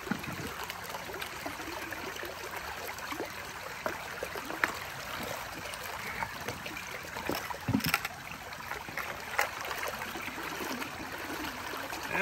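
Water runs steadily through a Keene A51 sluice box outdoors, a continuous rushing and trickling wash at moderate level with scattered splashes and gurgles, no talk.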